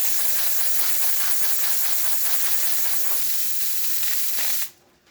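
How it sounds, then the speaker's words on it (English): Steam wand of a Rocket Milano espresso machine hissing loudly and steadily up close, a broad rushing spray that cuts off abruptly near the end. "And we are going to test the steam."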